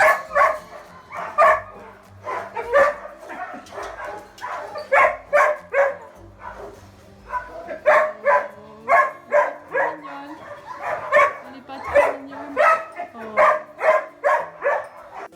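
Dogs at a kennel bark repeatedly in quick, uneven bursts throughout, loud and close, with occasional yips and whines between barks.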